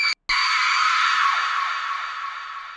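A woman's long, loud scream in a haunted train station horror scene, sustained and shrill for nearly three seconds after a brief silent gap, slowly fading at the end.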